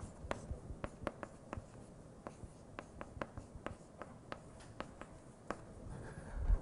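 Chalk or marker writing on a board during an algebraic geometry lecture, a series of sharp, quick taps and strokes in irregular rhythm, fairly close in a quiet room with no talking.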